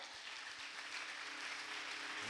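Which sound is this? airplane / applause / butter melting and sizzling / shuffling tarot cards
applause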